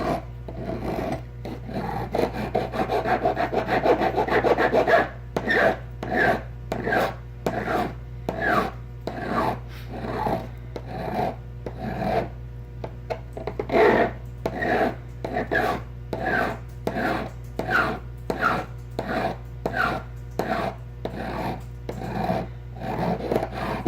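A boat propeller edge being thinned and deburred by hand, with steady, rhythmic rasping strokes repeating close and loud for the whole stretch, no voices.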